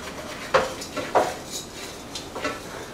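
Risotto rice being stirred in a pan with onions, butter and olive oil, giving a few distinct scraping clinks spaced about half a second apart over a quiet background.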